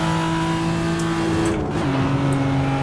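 Toyota Supra Mk IV engine in the Assetto Corsa racing game on the Nordschleife, a steady loud drone with sustained harmonic tones that dip briefly as if through a gear change, then carry on.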